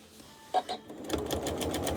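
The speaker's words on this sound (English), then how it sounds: "I'm using a special foot on my sewing machine called a stitch in the ditch foot." A sewing machine fitted with a stitch-in-the-ditch foot stitches a quilt made from shirts, starting with a couple of taps and then running in a quick, even rhythmic whir close by.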